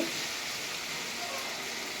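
Steady, quiet sizzling of eggplant and lemon frying in a pan for pickle, a continuous hiss with faint stirring underneath.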